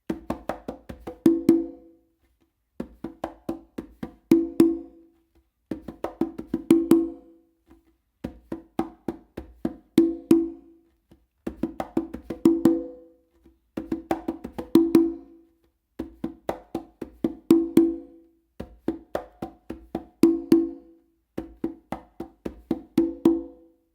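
A conga is played alone in a repeating tumbao rhythm, crisp open tones and soft muted slaps in short phrases separated by brief pauses.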